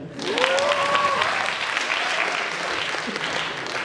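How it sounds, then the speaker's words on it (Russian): An audience applauds during a KVN comedy cup final at Bashkir State University, dense, sustained clapping with a voice calling out briefly early on. "Аплодисменты"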